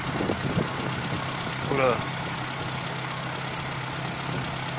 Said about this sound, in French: Donc ça y est, le véhicule est démarré.